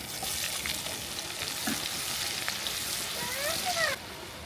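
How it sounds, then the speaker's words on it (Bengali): Onions sizzle and crackle in hot oil in a pan, a steady bright hiss with a few stirring scrapes near the end. "পেঁয়াজটা হালকা ভেজে নিয়েছি"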